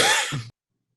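A single sharp sneeze bursts out in a city council meeting room, loud and breathy, with a short throaty tail before abrupt silence.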